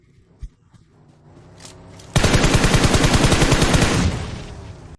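Gunfire in the BGMI mobile shooter game: after a quiet stretch with a single sharp shot, a loud, rapid burst of automatic fire rattles for about two seconds, then stops.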